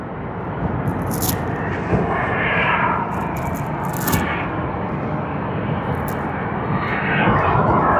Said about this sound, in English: Okay, another pushback.